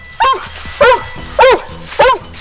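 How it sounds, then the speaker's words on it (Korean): A fire-station mountain rescue search dog barks to signal that it has found a person. Four sharp, loud barks ring out close by at an even rhythm, about one every half second, with no speech. "사람을 발견하면 짖어서 신호를 보낸답니다"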